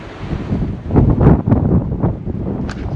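Wind blows across an exposed mountain crest during outdoor painting, gusting in loud rushing swells that buffet the microphone, with rustling and a few brief knocks.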